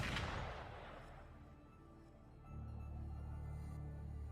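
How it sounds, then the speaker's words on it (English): A burst of gunfire in Wuthering Waves with a sharp opening blast that decays into rumble, followed by a steady low engine-like drone; no voices. "Gunfire! We've got intruders."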